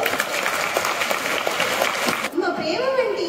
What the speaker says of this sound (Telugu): మరి వారి గట్టిగా చప్పట్లు.